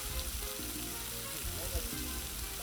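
Bacon sizzles and spits on a 22-inch Blackstone griddle over high heat, a soft, steady crackle with small pops, heard quietly up close.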